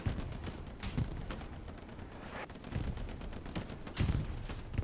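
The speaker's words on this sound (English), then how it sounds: "Going on a gun run there." Dense, fast volleys of gunfire from a gun run in a multiplayer video game match, a steady rattle of rapid shots with a few heavier bursts, moderately loud, no talking.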